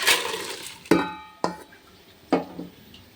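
Potatoes and katla fish are stir-fried in a pan for biryani, with three or four sharp metallic clanks of a spatula against the pan, each ringing briefly over a faint background sizzle.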